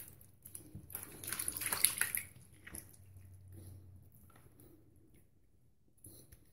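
Water splashes as a face is rinsed after a straight razor shave. A short, wet burst of splashing is followed by quieter dripping and faint movement in a quiet room.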